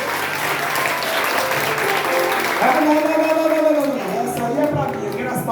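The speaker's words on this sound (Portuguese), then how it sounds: "Dá para aplaudir Jesus aí, gente?" A church congregation applauds during a Sunday sermon, continuous clapping filling the room while a voice sings or calls out over it partway through.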